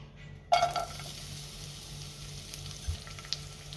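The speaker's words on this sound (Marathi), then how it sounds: "आपल्याला हा कांदा तेलावरती परतून घ्यायचा आहे" Chopped onion sautéing in a teaspoon of oil in a pan on a gas stove: a sudden sizzle as it hits the oil, then a steady close frying hiss with a few soft stirring clinks.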